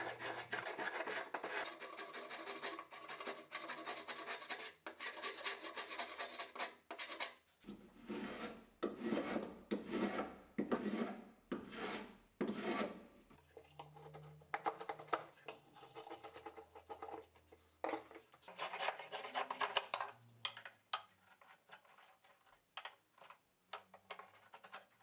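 Hand tools rasp and rub along the edges of a simple wooden DIY stool, rounding them over in long repeated scraping strokes, fairly close but quiet, with brief pauses between passes.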